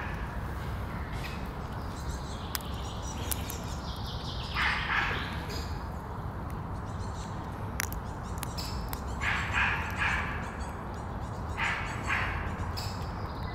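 A dog barks outdoors at a distance, a handful of short yips and barks scattered over steady background noise, with birds and a faint voice present.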